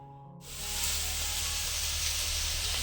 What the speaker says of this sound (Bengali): এই যে কড়াইতে মাছ ভাজা হচ্ছে